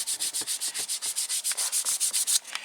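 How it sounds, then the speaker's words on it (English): Coarse 60 to 80 grit sandpaper rasps back and forth over a wooden hair stick, about twenty even rhythmic strokes, close and clear with no talk. "This is sanding to shape it, to give it its final contours."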